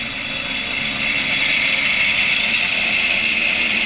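A SpeedCut chain cutter, a motor-driven chain tool for cleaning pipes, cutting into wood at a trade show: a loud, steady high-pitched whirring and rattling grind that holds constant throughout, close to the microphone.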